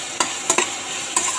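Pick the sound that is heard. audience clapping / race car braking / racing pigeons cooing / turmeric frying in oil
turmeric frying in oil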